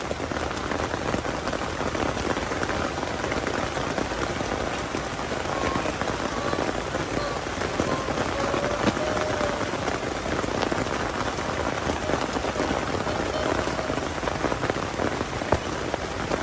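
Steady rain pouring in a forest, a dense hiss of drops striking leaves and ground that stays constant and fairly loud for the whole stretch, with no voices.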